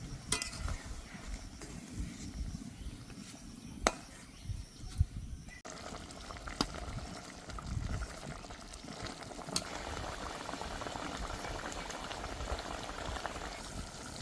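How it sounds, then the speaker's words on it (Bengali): Mustard gravy for shorshe ilish bubbles steadily in a pan as pieces of fried hilsa fish go in, a continuous soft boiling hiss with occasional clinks and splashes, no talking. "ঝোলটা ভালো করে ফুটে গেছে, এখন মাছগুলো দিয়ে দিচ্ছি।"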